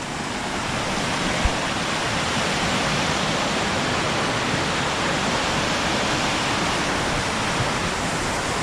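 Potoroo and Ellenborough waterfalls in flood roar as a dense, unbroken wash of heavy water, loud and constant throughout with no voices.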